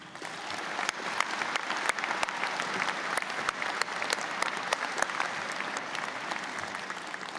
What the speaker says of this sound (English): May I ask you to please join me in a round of applause for all those people who've helped you get here today.